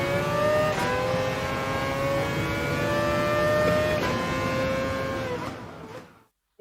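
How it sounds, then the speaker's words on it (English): A race car engine in a PlayStation 5 racing game trailer revs and climbs through the gears, a loud rising whine with shifts, before cutting off abruptly at the end. "Dude, these engine sounds."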